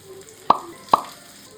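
Two pieces of shaped chana vada dough drop one after another into hot frying oil, each a soft close plop with a short sizzle, separated by a brief pause.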